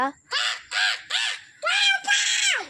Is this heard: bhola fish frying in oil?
no